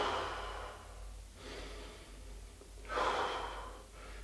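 Breathing during a home exercise routine for combat sports, two slow, audible breaths, each a soft rushing inhale or exhale, close to the microphone over a low steady hum.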